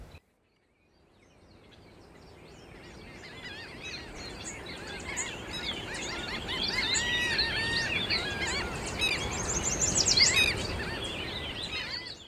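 Many small, colorful migrating songbirds sing in spring coastal woodlands, a dense chorus of chirps and trills that swells from faint to full over the span, with no voices.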